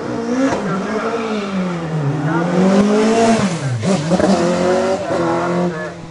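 A Slovak-built National Formula 1000 race car with a Polish Fiat 126 engine climbs a hillclimb course in practice, its engine revving up and down through gear changes, loud and close, with no talk over it.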